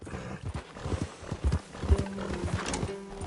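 Horse hooves clip-clop at a steady walking pace in the Red Dead Redemption 2 video game, close and fairly loud, with a brief snort or whinny mixed in.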